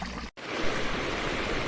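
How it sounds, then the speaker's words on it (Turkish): Steady broadband rushing of a clear flowing stream, continuous and fairly close, with a brief gap near the start. "Bu kıyıdan da böyle berrak su akıyor."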